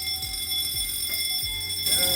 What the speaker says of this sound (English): we have accidentally triggered the fire alarm and we are unable to off it.